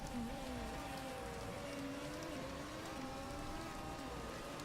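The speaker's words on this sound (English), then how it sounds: "It's a lot of rain" Heavy rain falls in the racing management game Motorsport Manager, a dense even hiss of drops with faint wavering engine-like tones underneath, steady and quiet throughout without talk.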